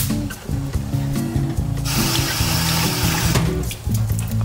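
Running water pours over a fish as the slime is rinsed off, a steady rushing splash that grows louder and fuller midway, then drops back to a lighter trickle.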